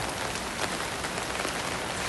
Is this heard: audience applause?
no